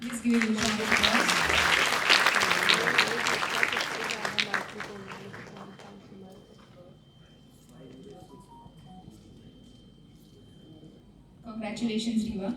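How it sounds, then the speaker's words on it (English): Audience applause fills a white coat ceremony hall at Parul University, loud and dense for about five seconds, then thinning and fading to near quiet before a fresh burst of clapping rises at the end. "Please give a round of applause."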